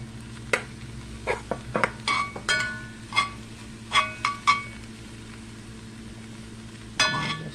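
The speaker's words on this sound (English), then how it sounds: "You just stirring it in a little at a time." A spoon stirring settled rice and vegetables into a pot of homemade fried rice, heard as a series of separate scrapes and metallic clinks against the pot, close by with no talk.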